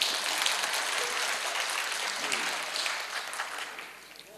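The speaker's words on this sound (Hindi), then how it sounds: "तो अभी बजा के बताएं किस तरह बजाते हैं तालियां" Audience applause at a literary speech event, many hands clapping in a continuous wash that swells early and gradually fades toward the end.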